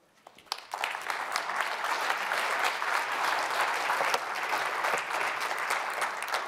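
Audience applause at an urban growth policy symposium, a dense sustained clapping that swells after a brief quiet start and holds steady throughout, filling the room without speech.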